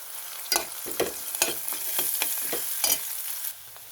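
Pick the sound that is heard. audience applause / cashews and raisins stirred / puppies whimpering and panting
cashews and raisins stirred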